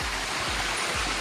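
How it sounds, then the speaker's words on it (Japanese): A mountain stream beside a forest road near Nakimushi-yama in Kanuma, Tochigi, rushes with a steady, close, even hiss of flowing water, with a few soft low thumps underneath and no talking. "川のせせらぎ"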